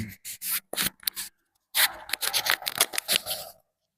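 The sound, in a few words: microphone being handled and adjusted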